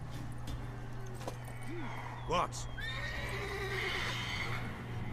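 Mare from The Witcher 3 whinnying loudly in a single rising call midway, with faint hoof clip-clops and game ambience, while a voice speaks briefly.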